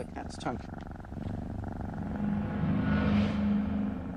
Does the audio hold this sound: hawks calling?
no